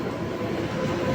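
A Mumbai local train rolls past on the line as a steady low rumble with a dense mechanical roar, loud and continuous, with no voices.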